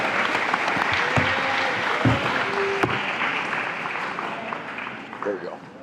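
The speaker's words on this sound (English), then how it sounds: "Give a round of applause for Jeremy Olsen, most legendary player." An audience at a 2021-22 athletics awards ceremony gives a sustained round of clapping that tapers slightly toward the end, with a few brief voices and knocks mixed in.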